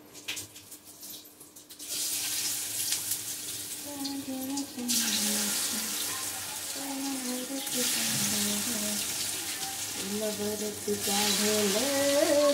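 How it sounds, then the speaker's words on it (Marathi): Kothimbir vadi frying in hot oil over a medium flame, a steady broadband sizzle that bursts in loudly after a quiet start and stays close and continuous, with a background voice sounding faintly underneath. "आता आपण त्याला मीडियम फ्लेम वरती सर्व वड्या तळणार आहोत"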